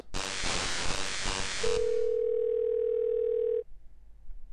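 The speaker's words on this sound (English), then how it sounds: "It's a phone." Telephone in the video game Thimbleweed Park, a burst of noisy hiss followed by a clear steady dial tone held for about two seconds before stopping abruptly.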